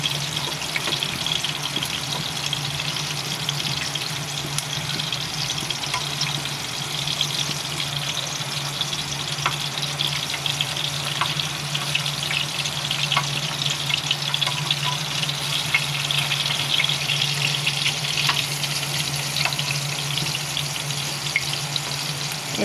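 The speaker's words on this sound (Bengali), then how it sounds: "আমি এক এক করে সব মাছের বড়া উল্টিয়ে দিচ্ছি।" Fish fritters frying in hot oil, a continuous dense crackling sizzle that stays close and even throughout, with faint occasional clicks as the pieces are turned over one by one.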